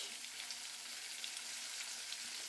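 Katla fish with bottle gourd frying in a pan as chili paste goes in, a steady close sizzle of hot oil filling the moment with no voices.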